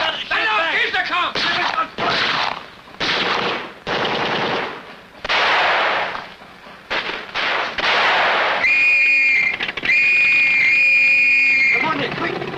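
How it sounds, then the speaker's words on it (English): Rapid bursts of gunfire in a tense shootout scene from a 1952 British crime film, loud and repeated in clusters with short gaps, followed by a sustained ringing tone, while shouting voices cut in between. "Stand up and start to shoot back."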